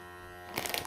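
A USB electric vacuum pump hums steadily while emptying a travel vacuum storage bag, then a louder hissing rush of air joins in, close up.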